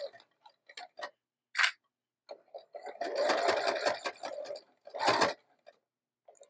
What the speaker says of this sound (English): I am going to quilt this, so